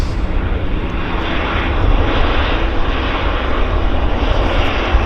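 Airplane landing at Vancouver Airport YVR, with a loud and steady roar of engine and rushing air that swells a little midway and holds for the whole stretch. No talk is heard.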